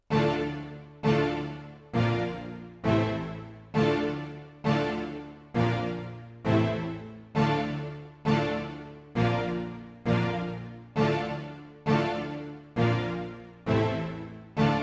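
Synthesizer chords made in FL Studio for a cinematic Afrobeat track, struck in a steady rhythm, one every second or so, each sustaining and fading before the next, with no voices.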